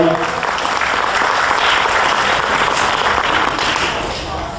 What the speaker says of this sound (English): can we just give them a round of applause for joining us as well?